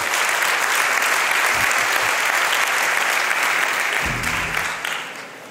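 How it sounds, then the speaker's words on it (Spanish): A crowd at an HP Partner First roadshow claps steadily, a sustained and even burst of applause that holds throughout and fades slightly near the end. A brief low thump sounds partway through. "Dame un aplauso desde aquí"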